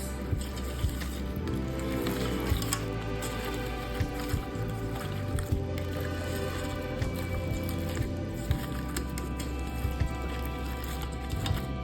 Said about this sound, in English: I'm just gonna toss it here in that sticky pineapple sauce.